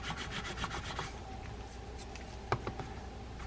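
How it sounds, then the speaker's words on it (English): A utility knife scraping old dried salt off a Shimano Corvalus 400 fishing reel: quiet, repeated close-up rasping strokes in a fast run at first, then a few isolated scrapes and a sharper tick. "I'm going to try and use a utility knife to get that off as a scraper."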